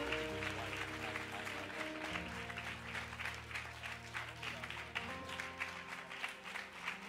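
A church congregation at a worship service clapping steadily in rhythm over music, with a voice calling out over the continuous applause.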